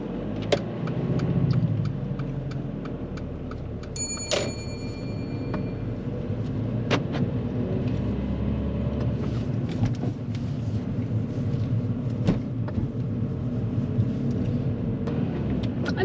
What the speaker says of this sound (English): we're going to start the engine and we're going to make our way down from here